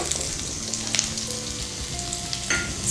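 Onions sauté in hot oil for a Hyderabad mutton masala, a soft continuous sizzle with occasional scrapes and clicks of stirring.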